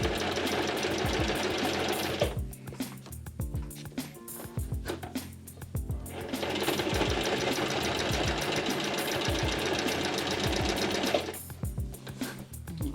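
A sewing machine stitches over a tote bag strap, running in loud, steady mechanical bursts with brief pauses between passes as the stitching stops and restarts.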